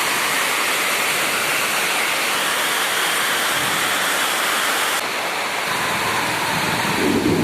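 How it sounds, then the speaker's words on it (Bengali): Heavy rain pours down steadily in a dense roar, with low rumbling thunder blended into the downpour during a daytime storm after Mahalaya; the wash stays loud and continuous throughout, with no voices. "মেঘের আওয়াজ শুনতে পাচ্ছেন দেখছেন তো আকাশ"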